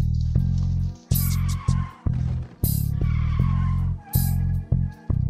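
A car drives and skids with a loud, choppy engine drone that cuts in and out, broken by several sharp high tire squeals close by.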